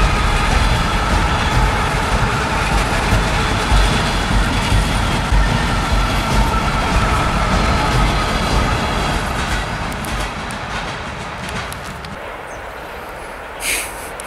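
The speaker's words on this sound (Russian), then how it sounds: "Судя по звуку, реально атомная электричка." An electric commuter train rumbles past at close range near Chernobyl, a loud, steady roar of wheels and motors that gradually fades over the final seconds.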